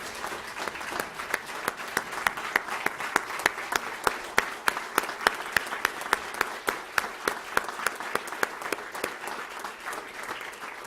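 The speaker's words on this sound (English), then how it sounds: "Let's give them a round of applause." A sustained round of applause fills an Alaska state legislative address, with dense clapping holding steady for about eleven seconds and sharp individual claps standing out above the crowd.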